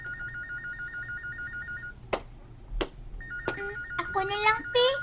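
A telephone rings with a warbling electronic trill that repeats in bursts, broken by a gap in which a few sharp knocks and clatters sound, while voices speak over the later ringing.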